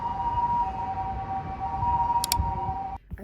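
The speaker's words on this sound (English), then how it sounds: "It's really not Italy without the ambulance sounds." A steady, wavering siren tone from an ambulance in Italy sounds at moderate distance over a constant background hum of traffic and wind.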